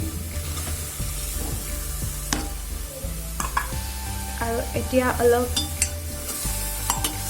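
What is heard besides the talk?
soybeans and masoor dal frying and being stirred in a cooker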